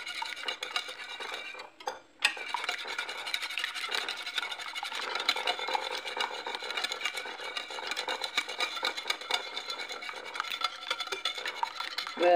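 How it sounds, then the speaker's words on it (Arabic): A utensil stirs sugar into a mixture for Tunisian khobz el bey, a Ramadan sweet. Close, steady scraping and clinking against the bowl runs continuously, with a brief pause early on. "نخلطوه كلش مليح كما راكم تشوفوا حتى يذوب هذا السكر"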